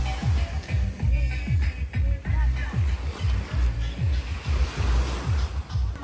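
Sea waves break on a crowded beach on Christmas Eve, rolling in a steady rhythm of rushing surges close by, with wind noise buffeting the microphone.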